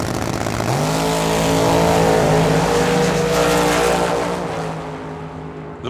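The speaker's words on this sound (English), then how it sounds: "The Mustang is out there. Dragster closing." A Mustang and a dragster race side by side at the Hangover Nationals drag event, a loud, sustained engine roar rising in pitch and then easing as the cars pull away.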